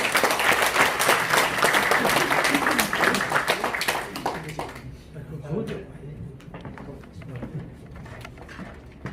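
An audience at a lecture forum gives loud, dense applause to welcome the speaker, and the clapping thins out into scattered claps and a brief murmur of voices.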